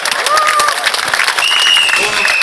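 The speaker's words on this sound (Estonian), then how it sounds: "No teeme ühe aplausi veel Mareksile." Audience applause at a 2012 strongman Grand Prix car pull, loud and continuous, with dense clapping and a few whistles and shouts running through the whole stretch.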